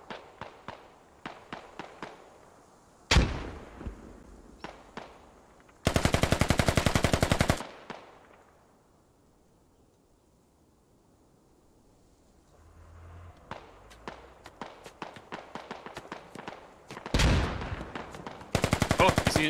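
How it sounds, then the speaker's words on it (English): Bursts of automatic gunfire in a military video game campaign, shooting through a wall in a two-story building: rapid sharp volleys and single shots, a quiet lull mid-clip, then more repeated loud bursts. "He shoots him right through the wall"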